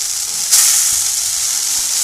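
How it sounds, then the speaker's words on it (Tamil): Cleaned fresh coriander leaves drop into a hot pan for village-style coriander chutney. A sudden loud burst of sizzling follows and settles into a strong, continuous hiss. "இப்போ இதில் நம்ம எடுத்து வச்ச மல்லித்தழை சேர்த்துக்கலாம்."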